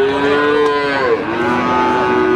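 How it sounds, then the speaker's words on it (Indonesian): Limousin cattle at a livestock market in Pati give a loud, drawn-out moo that wavers in pitch across the whole stretch, close by, with no talking over it. "Ini ada sapi limusin."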